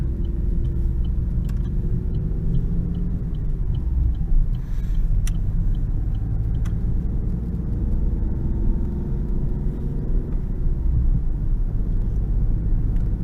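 A car drives through a roundabout with a steady low engine and road rumble heard from inside, tyre and wind noise continuous, no talking.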